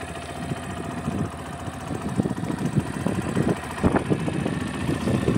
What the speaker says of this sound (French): On va pouvoir écouter le son de ce beau trail.